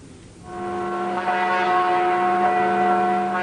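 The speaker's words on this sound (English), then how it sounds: "Bells tolled again in every corner of the country." A single loud, deep church bell strike swells in and rings on, its sustained humming tones lingering without pause, on January 15, 1991, the start of the Gulf War.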